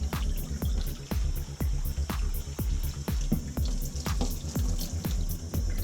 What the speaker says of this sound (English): Another rinse for more starch removal.